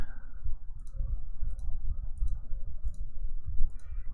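Mouse clicks tick while a map is being drawn in Dwarf Fortress: about five light, evenly spaced clicks over a constant low rumble of background noise.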